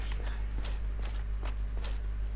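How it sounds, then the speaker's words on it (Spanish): Black horses' hooves clop in a quick, steady rhythm in the Flame furnace zone of the video game Dark Souls, a series of soft repeated thuds over a constant low hum of game ambience. "Y aquí están los caballos negros"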